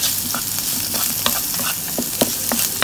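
Seafood shells sizzle steadily in a frying pan seasoned with oregano, onion, salt and pepper, with scattered scrapes and ticks from stirring, close up and with no voices.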